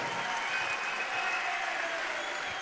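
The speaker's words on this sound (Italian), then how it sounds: "Accogliamolo con un grande applauso." A crowd at a Lega Nord rally in Padova breaks into sustained, dense applause to welcome the mayor, a steady roar of many hands clapping with no pause.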